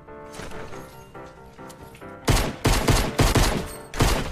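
Shotgun blasts from a free-for-all first-person shooter game, several loud booming shots in quick succession in the second half after quieter tonal game sounds.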